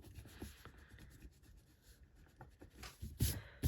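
Soft, faint rubbing and scratching as a board is erased during a tutoring session on vapor-liquid problems, with uneven strokes that grow louder toward the end.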